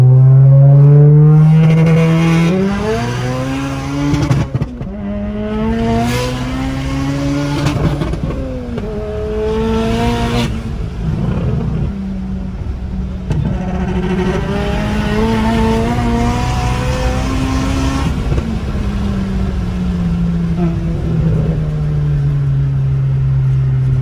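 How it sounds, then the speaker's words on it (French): A 2-litre TFSI engine making 800-900 hp accelerates hard and loud, its pitch climbing through several gears with sharp shift breaks, then settling into a steadier drone. "ce que ça peut donner un 2 litres TFSI de 800-900 chevaux"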